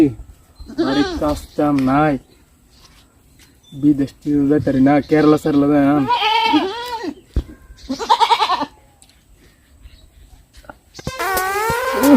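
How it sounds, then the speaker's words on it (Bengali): Goats bleat in several wavering bursts, loud and close, with a pause midway and a final higher cry near the end. "ছাগল"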